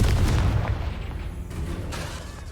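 A fiery Confringo spell blast erupts in Hogwarts Legacy, a loud, deep boom that rolls on in a rumbling decay for a couple of seconds.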